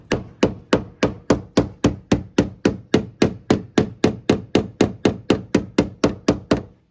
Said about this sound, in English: What would you call a hammer? No more. Oh, like no more dent on the car.